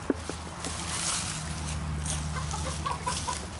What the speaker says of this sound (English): with all the chickens? Be careful, those roosters.